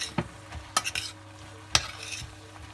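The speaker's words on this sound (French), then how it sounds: "Je prends mes jeunes pousses d'épinards préalablement lavées et égouttées. Je plonge dedans très rapidement, sans trop les faire cuire." Young spinach leaves are sautéed quickly over high heat in a pan, with a few sharp stirring scrapes and clatters against the pan over a light sizzle.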